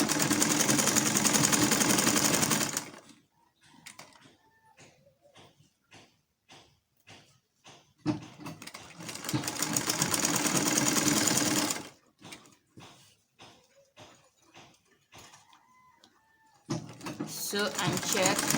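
Sewing machine stitching a basic bodice with an adjustable zipper foot, running in three loud steady bursts separated by quieter gaps filled with speech and faint rhythmic clicks.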